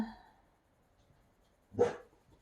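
A pet dog gives a single sharp bark indoors, fairly close and brief, after a quiet stretch with a faint sound at the very start.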